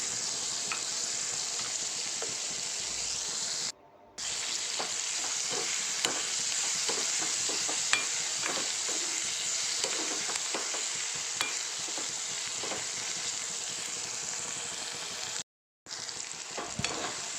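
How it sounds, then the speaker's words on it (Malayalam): Brinjal and onion softening in hot coconut oil in a pan, a steady close sizzle with occasional stirring scrapes running continuously, briefly dropping out twice, no talking. "ഇപ്പോൾ വഴുതനങ്ങയും ഉള്ളിയൊക്കെ വെളിച്ചെണ്ണയിൽ കിടന്ന് നല്ലപോലെ ഒന്ന് വാടിയിട്ട് അതിലെ വെള്ളമൊക്കെ ഇറങ്ങി വന്നിട്ടുണ്ട്."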